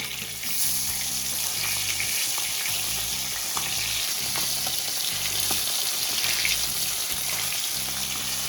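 Lata fish frying in hot oil as the pieces are turned one by one, a steady dense sizzle and crackle that holds close and loud throughout with no talking.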